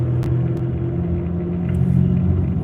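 A steady low rumble inside a car while driving, a constant close engine and road drone with a faint higher hum and no talking.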